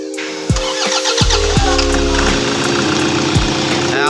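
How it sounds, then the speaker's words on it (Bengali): A Toyota Hilux's 2KD D-4D diesel engine, freshly refitted, cranks and catches after a few rising whirs, then settles into a steady, loud, close idle. "এখন স্টার্ট দিব, একটু এসি কম করে নেব।"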